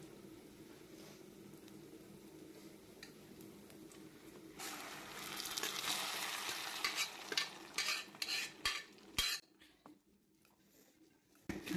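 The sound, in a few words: stirring lentils in a pot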